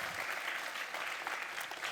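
Audience applause for the professional services staff and technicians at the UCL Festival of Engineering, a steady, fairly quiet patter of many hands clapping evenly throughout with no voices.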